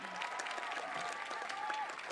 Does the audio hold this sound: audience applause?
yes